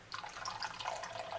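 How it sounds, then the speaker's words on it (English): Water poured into a container while making lotion, a short, soft, steady liquid trickle and splash heard close by and fairly quiet, with no talk. "pour the water in."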